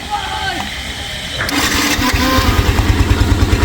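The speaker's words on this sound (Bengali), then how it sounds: "দর্শক গাড়িটা স্টার্ট করবো সাউন্ড কন্ডিশন দেখো" A Yamaha FZS V2 motorcycle engine cranks and catches, then settles into a loud, rhythmic idle with steady thumping pulses, close up.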